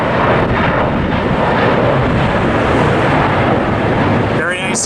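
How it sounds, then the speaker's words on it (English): A United Boeing 787 Dreamliner takes off from LAX on a windy day, its jet engines producing a loud, steady broadband roar that holds for the whole stretch, with gusting wind on the microphone and a brief voice near the end. "Big Delta plane taking off. Or no, correction, United. Oh, this is Dreamliner for sure."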